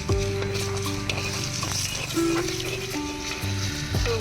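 Dry red chillies fry in a clay pot over a wood-fired stove while being stirred, a steady close sizzle with crackles and scraping running unbroken through the moment, with tonal clinks and knocks scattered over it.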